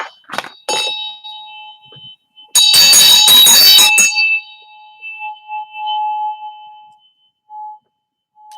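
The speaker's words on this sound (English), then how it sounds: "I'm going to use the crown chakra bell" A crown chakra bell, used for an energy clearing, is struck once with a bright metallic ding that rings out and fades slowly over several seconds, clear and close, after a couple of small taps.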